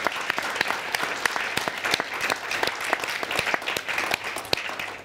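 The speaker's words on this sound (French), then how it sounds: "j'aimerais qu'on l'applaudisse tous" A conference audience claps steadily throughout, a full room of scattered hand claps at moderate volume with no talking over it.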